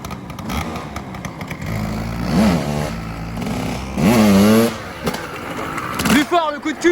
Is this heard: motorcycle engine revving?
yes